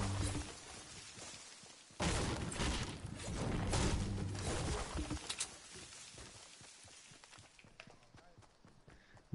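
Fortnite match gunfire in and around a factory: a loud burst of broadband shots erupts two seconds in and continues in rough clusters, fading toward the end, mixed with running footsteps and game noise.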